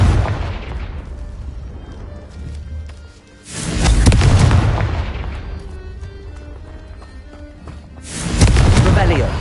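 Two heavy blasts from the Confringo fire spell in Hogwarts Legacy boom out several seconds apart, each a loud broad burst with a rumbling tail, over continuous game background noise.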